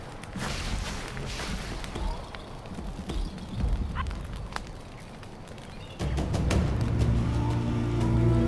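Horse hooves clip-clop in Far Cry Primal, a quick run of loud, close hoofbeats against busy game sounds, with a heavier rumble joining partway through.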